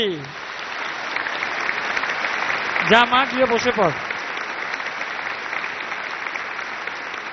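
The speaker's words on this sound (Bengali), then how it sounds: "গীতশ্রীর জন্য একটা জোরে হাততালি।" An audience claps continuously for a young singer at a music performance, a dense, even patter of many hands that carries on throughout, with a short spoken remark partway through.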